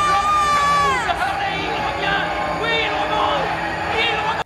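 A frenzied crowd roars and whoops at an arm-wrestling tournament in a 1987 film, loud and continuous with a narrator's voice speaking over the din.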